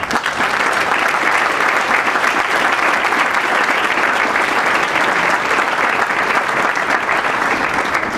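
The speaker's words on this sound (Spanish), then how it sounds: "me gustaría que entre todos les demos un aplauso a ellos que nos hacen la vida más fácil" Steady, dense audience applause at an artificial intelligence talk, loud and sustained throughout with no voices rising above it.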